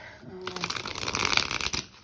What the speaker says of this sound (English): few more shuffles here, and then let's see.